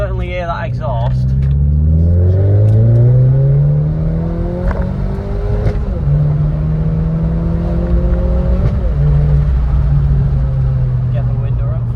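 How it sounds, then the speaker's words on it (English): A car's exhaust drones steadily while driving along country lanes, its low engine note climbing and falling through the gears in a loud, continuous rumble with no voices over it. "you can certainly hear that exhaust"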